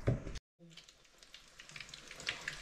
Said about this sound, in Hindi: तो चले फिर इनको फ्राई करते हैं।